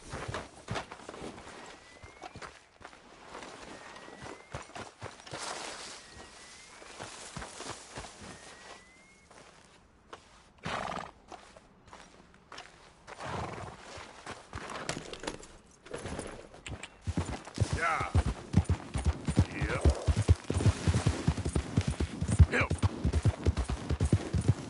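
Horse hooves clip-clop in a PS4 video game while riding, a rhythmic clopping that grows louder and faster toward the end, with a few brief voices in between.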